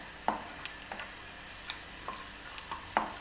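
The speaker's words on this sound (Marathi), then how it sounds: "मी आता शेंगदाणे टाकून घेतले आहे व याला छान फ्राय करून घेते." Peanuts frying in a pan give a faint, continuous sizzle punctuated by light, irregular ticks and clicks as they shift and pop, close and quiet, no voices.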